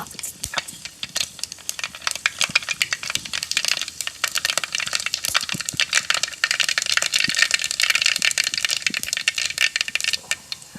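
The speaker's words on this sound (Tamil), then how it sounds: "எண்ணெய் சூடான உடனே ஃபர்ஸ்ட் கடு பொட்டிட்டா" Mustard seeds splutter and pop in hot oil in a pan, a fast, continuous crackle of sharp close pops during cooking of a fish curry, steady and busy throughout with no talking.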